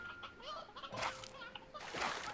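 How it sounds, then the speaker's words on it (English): Chicken clucking in the Slime Rancher 2 video game, a few soft fowl calls in short bursts with some faint game sounds, at moderate level and mostly free of speech. "There was more than just one chicken."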